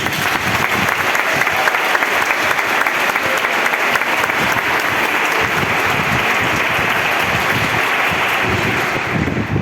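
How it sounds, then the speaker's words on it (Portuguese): A Catholic prayer-group congregation in Buritama, Brazil, bursts into sustained, loud applause during a sermon, a dense roar of clapping that holds for nearly ten seconds. "Aplauda o Espírito Santo."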